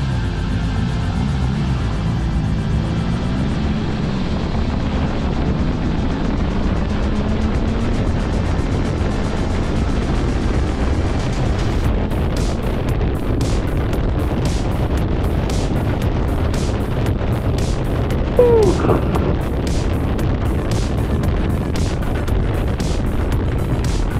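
A BMW S 1000 XR motorcycle rides on and overtakes a Subaru, its engine note rising beneath heavy, constant wind roar on the microphone.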